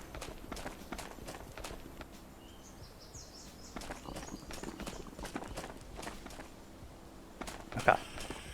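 Quick running footsteps thud steadily up a hill in the shooter game Ghosts of Tabor, close and fairly soft, with one sharper clatter near the end.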